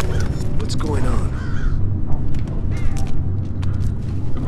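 Crows cawing in the stealth video game Thief, several harsh caws rising over a dense rumbling ambient bed, with someone talking across part of it.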